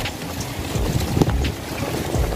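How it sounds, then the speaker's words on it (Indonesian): Strong wind gusting into the microphone outdoors, a rough continuous low rumble with buffeting bursts throughout. "Anginnya gede banget."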